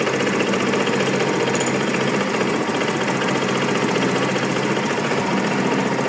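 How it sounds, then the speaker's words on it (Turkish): A Peugeot Pulsion scooter engine idles steadily, a continuous even mechanical chatter that stays close and constant with no talk over it. "Şu an çalışıyor rolantide."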